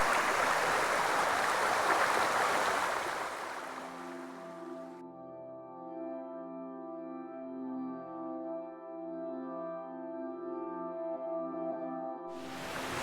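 A waterfall stream flowing in the UK gives a steady, close broadband rush for the first few seconds. Sustained musical tones then replace it through the middle, and the rushing water returns briefly at the end.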